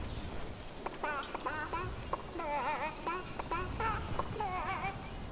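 Chicken in Fortnite clucking repeatedly in short, warbling bursts spread across the whole stretch, fairly close and steady over a low game ambience.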